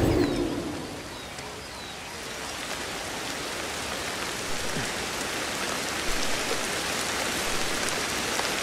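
Steady rain pours in the prehistoric wilds of the video game Ancestors: The Humankind Odyssey, a dense, even hiss of falling drops that lasts throughout, with faint bird calls at the start and no voices.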